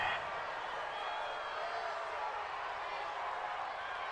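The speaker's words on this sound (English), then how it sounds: "This home crowd, they're happy with that call." Home crowd noise in Madden 20 during a Bengals–Jets game: a steady, broad stadium roar of cheering after a defensive call, filling the whole stretch at a constant level with faint voices mixed in.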